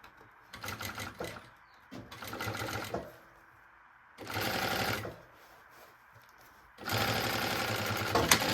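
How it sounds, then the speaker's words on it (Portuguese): A sewing machine stitches the top edge of a fabric maternity bag in three separate runs, each a fast, even mechanical whir, with quiet pauses in between and the last run the loudest. "E começa a costurinha daqui de cima"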